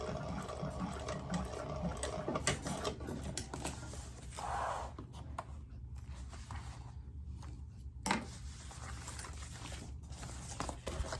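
A sewing machine sews a curved seam with a steady, close motor whir and needle patter. The speed eases and picks up again, with a brief pause and a sharper click near the end.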